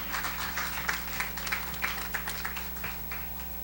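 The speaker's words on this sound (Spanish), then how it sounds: "Dale un aplauso al Señor que vive y reina para siempre." Church congregation claps together in a quiet, steady rhythm, one soft clap roughly every third of a second, over a low electrical hum.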